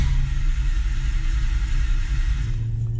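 Low, steady mechanical churning of a drag race car engine cranking over on a cold start without catching, close and loud, continuous for a few seconds before easing off.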